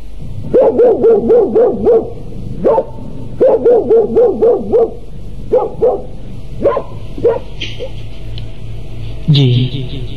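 Several dogs bark loudly at night, close and prominent, first in quick clustered runs of four or five barks, then as scattered single barks.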